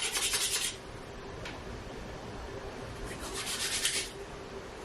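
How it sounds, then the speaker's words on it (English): Palms rubbed briskly together with a little whisky on them, two close bursts of dry swishing friction separated by a quiet pause with a faint tap. "put a little bit of whiskey in your palm and rub it together till it dissipates"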